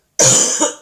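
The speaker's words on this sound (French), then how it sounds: "si je commence à tousser comme ça, on n'a pas fini" A single short, sharp cough from a woman, close and fairly loud, alone with no talk around it.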